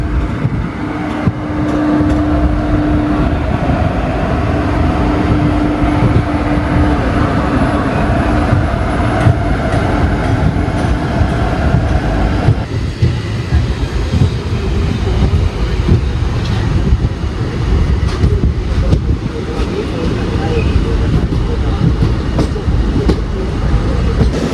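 Ernad Express train pulling into Kozhikode railway station on a rainy day, a loud, steady rumble and clatter of wheels heard from onboard, with a whining tone early on that fades as the train slows.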